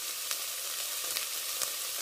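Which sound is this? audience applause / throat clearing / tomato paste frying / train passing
tomato paste frying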